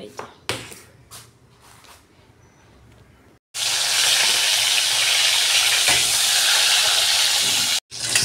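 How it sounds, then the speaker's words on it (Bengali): Potatoes drop into hot oil in a wok and burst into a loud, steady frying hiss that runs for several seconds. Brief speech and kitchen clatter come before it. "এখানে আমি তেলের মধ্যে আলুগুলো দিয়ে দিয়েছি আর ভালো করে নাড়িয়ে নেব।"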